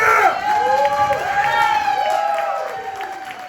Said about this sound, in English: Do you think extroverts are the better ones? Let's applaud now.